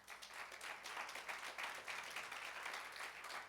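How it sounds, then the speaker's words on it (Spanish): Church congregation applauding during a Spanish-language service: continuous, even clapping from many people, soft and somewhat distant, sustained without pauses and with no talk over it. "Démosle un aplauso al Señor,"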